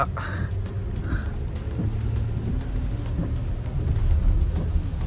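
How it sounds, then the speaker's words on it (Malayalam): Heavy rain falls in a constant wash on a Sheffield street beneath a low rumble of passing traffic, with a few faint chirps early on. "നല്ല മഴ"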